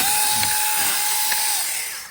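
A mini chainsaw cutting overgrowth between fences, its small motor whining at a steady high pitch for about two seconds before cutting off.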